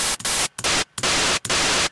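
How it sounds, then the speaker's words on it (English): Noise-loop synth patch in Ableton Live playing static white-noise bursts, four loud, harsh hits cut by short silent gaps in a choppy rhythm. "Let's use noise loop for now."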